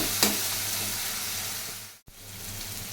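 Spiced masala sizzles and fries steadily in hot oil for a tarka lentil curry, a loud continuous crackle with a sharp stir near the start and a brief drop in sound just past the two-second mark.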